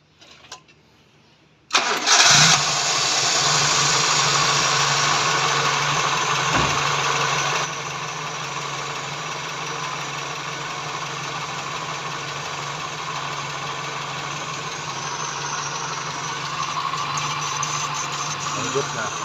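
An engine fitted with a crankcase breather cranks and fires up abruptly, then settles into a steady, even idle that runs on close by. A voice can be heard briefly before the start.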